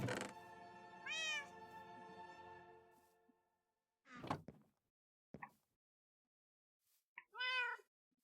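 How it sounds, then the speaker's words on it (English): A giant cat in GregTech New Horizons, a modded Minecraft game, meows loudly several times: a long drawn-out cry at the start, then a short thump, a brief click, and a final rising meow near the end. "The worst part is it still makes cat noises."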